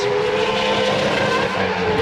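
A Minardi Formula 1 car on Bridgestone tyres rips through a fast chicane in Australian qualifying, its engine a loud, steady high-pitched wail held close throughout with slight tyre scrub.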